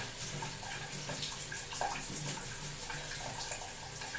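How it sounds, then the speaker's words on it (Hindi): Cold water pours steadily from the tap of an instant electric water heater, a continuous soft rushing splash heard close and fairly quiet, with no talk. "अभी ठंडा पानी आ रहा है"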